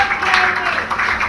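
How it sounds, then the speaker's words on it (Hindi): An audience applauds Jayanti, still in costume as Shabari in a Ram Lala stage show, with a short, steady burst of clapping. "जोरदार तालियां।"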